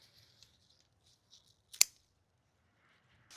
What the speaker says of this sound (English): Let's snip some chives.